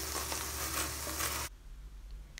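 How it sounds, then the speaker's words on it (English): Diced bacon sizzles, its fat crackling in a hot pan for about a second and a half, then cuts off to near silence. "I start off by frying diced bacon in its own fat until it's glazed."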